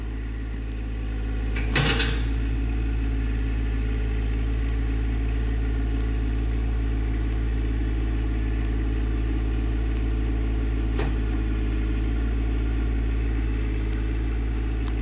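John Deere 1025R compact tractor running while struggling to steer under the weight of its lift on a muddy hill, a steady loud engine drone with a brief clunk early on and a faint click later.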